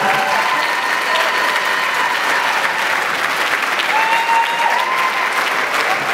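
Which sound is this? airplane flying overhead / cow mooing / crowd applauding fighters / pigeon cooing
crowd applauding fighters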